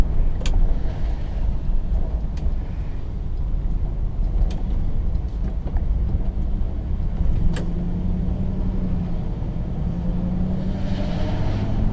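A 1960 Pontiac barn find cruises around the block, its engine a steady low rumble close by for the whole stretch, with faint road noise and a few light clicks but no talk.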